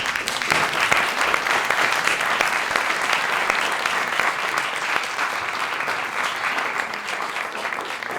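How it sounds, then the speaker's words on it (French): An audience claps in a sustained round of applause after a talk on fear and the brain. The dense, even patter of many hands runs loud and unbroken for around eight seconds, with no voices over it. "je vous propose de les applaudir"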